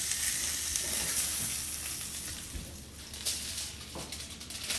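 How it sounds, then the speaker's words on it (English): Wagyu New York strips stand on their fat edges in a hot pan as the fat renders, giving a steady, dense sizzle and crackle up close. "we've put them on their side where you see that fat. Let that render for about 30 seconds"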